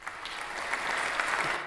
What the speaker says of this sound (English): give that person a round of applause